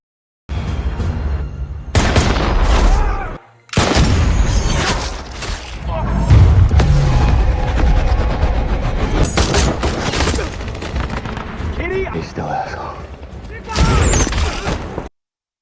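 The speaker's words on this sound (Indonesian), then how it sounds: "baku tembak pun terjadi" Sustained bursts of rapid gunfire and booms from a film gunfight against terrorists, loud and dense with brief cutoffs, mixed with shouting voices.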